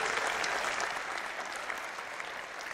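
Audience applause for a sand artist at the TAFI Convention 2015, steady dense clapping from a large crowd that holds at an even level throughout, with no voices over it.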